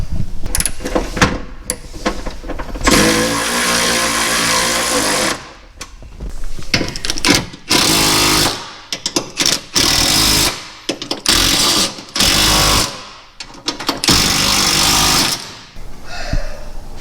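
Loud, close bursts from a power tool driving bolts into step sliders on a Ford Bronco, a long ratcheting run followed by a string of short rattling pulses separated by brief pauses.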